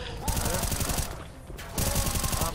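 Rapid bursts of automatic gunfire from Left 4 Dead 2 gameplay, dense, continuous rattling shots with a brief lull in the middle before the firing resumes, loud and up close.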